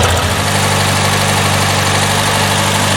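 A Porsche 912 engine fitted with Dellorto DRLA carburetors idles steadily after carburetor cleaning and adjustment, a continuous loud, even rumble with a smooth low pulse and no talking.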